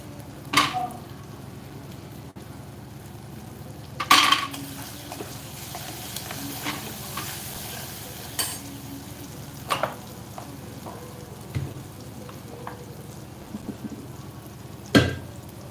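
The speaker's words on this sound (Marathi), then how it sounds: "जी भाजी आहे त्यांना छान हाटून घ्यायचं आहे" Vegetables are stirred and sautéed in a pan in a traditional home kitchen. A soft sizzle runs throughout, broken by scattered scrapes and clinks of the spoon against the pan, with no talking.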